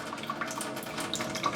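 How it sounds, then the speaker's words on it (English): Water running from a kitchen faucet into the sink drain with the main supply shut off, a short close splashing flow with small bright drips. "So we're just gonna clear the pipes from water."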